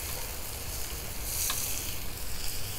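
Chuck eye steaks sizzle loudly on a ribbed griddle over a 200,000 BTU high pressure low profile burner, a steady close crackling hiss running throughout with the burner's low roar underneath.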